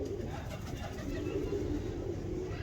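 Soft, low cooing from golden pigeons runs continuously and close by, with a steady murmur of calls and no clear pauses.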